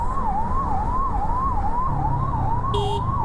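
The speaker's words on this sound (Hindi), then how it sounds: "ये इन्होंने एम्बुलेंस को रास्ता दिया था" An ambulance siren wails on a road, rising and falling steadily and loud over constant traffic rumble, with a short horn-like blip near the end.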